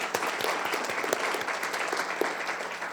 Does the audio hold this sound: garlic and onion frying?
no